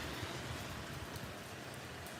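Steady rain falls outside a window on a chilly day of about 40 degrees along the Portuguese Camino, a dense, even hiss of drops on surfaces that is close and continuous with no voices.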